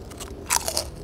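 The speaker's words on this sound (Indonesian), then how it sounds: "Kerupuk dulu dah buat pemanasan. Kerupuk bawang." Fried onion crackers (kerupuk bawang) bitten and crunched up close, a couple of sharp crisp cracks followed by brief crackly chewing, loud and alone with no talk.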